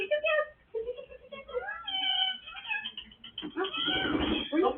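A cat meows several times up close, the calls rising and falling in pitch with short pauses between them, ending in a louder, strained cry.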